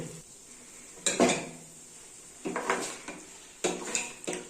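Sprouted field beans are tipped into a metal cooking pot, giving three separate clattering bursts of rattling and scraping spaced about a second apart, fairly close and moderately loud, with quiet pauses in between and no talking.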